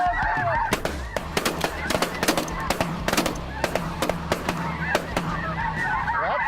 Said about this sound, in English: here comes another flock. Some of Jake's buddies have never seen this before, and it's just the sky is just littered with snow geese